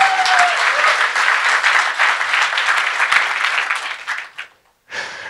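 Audience at a Hackfest hacker conference talk breaks into steady, dense applause filling the room for several seconds, then it trails off briefly before a short fresh burst of clapping at the end.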